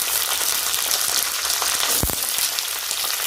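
Ginger and garlic frying in oil in a pan make a loud, continuous crackling sizzle with light stirring and one short thump of something dropped in partway through, no talking.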